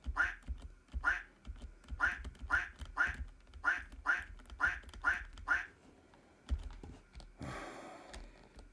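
A duck quacks in the indie horror game On the Bus, about nine evenly spaced close, loud quacks in a steady rhythm, followed by quieter rustling and a short burst of noise.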